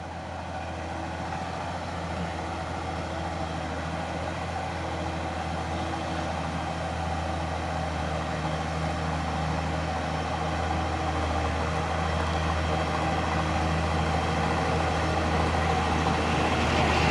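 A Fuso box truck engine idles steadily throughout, a continuous low diesel rumble with a constant hum and no revving, fairly close and alone with no voices.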